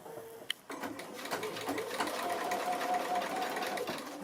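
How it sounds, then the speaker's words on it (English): A sewing machine stitches a foundation pieced quilt block, starting after a sharp click and then running steadily with a fast, even mechanical whir at close range. "I'm going to start stitching from just beyond the dotted line"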